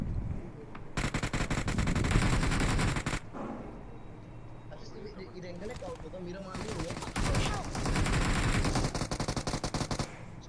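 Rapid automatic gunfire bursts crackle through a firefight in the mobile game Battlegrounds Mobile India, loud sustained volleys broken by a quieter lull before more sustained firing, with a person talking over it.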